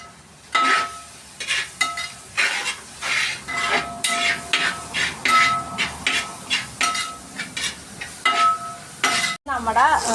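Onion, garlic, green chili and curry leaves stir-fried in a pan for Alleppey-style long bean mezhukkupuratti, loud rhythmic scraping and clattering of a spoon against the pan over a continuous sizzle, close up.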